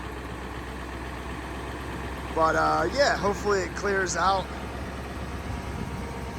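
A truck engine idles with a steady low rumble, its original stock exhaust audible throughout, while someone speaks briefly over it in the middle.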